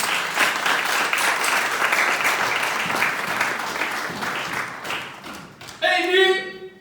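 A church congregation claps together in sustained, dense applause that runs steadily for several seconds, then fades as a voice rises near the end.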